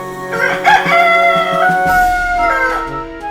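A cartoon rooster crows a single long, drawn-out cock-a-doodle-doo, loud and close, with bright harmonic tones over a soft music bed and no talking.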